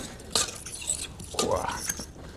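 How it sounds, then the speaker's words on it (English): Utensils stir and toss a dressed salad of lemon juice, salt and pepper in a bowl, giving a few soft clinks and scrapes, quiet and close, with faint kitchen background. "And then just stir it up."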